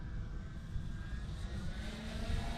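HobbyKing Big Red Stearman RC biplane engine held just over half throttle, a steady continuous drone with a faint high whine, moderately distant and fairly quiet, no voices.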